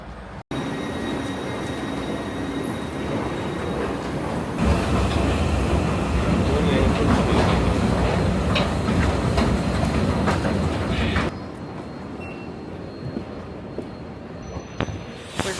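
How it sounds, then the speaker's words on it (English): Train at a station heard from aboard or on the platform: a continuous loud rumble with rattling and clatter that swells in the middle, then drops to a quieter hum near the end, with faint talk underneath. "Here, we've just arrived to the train station."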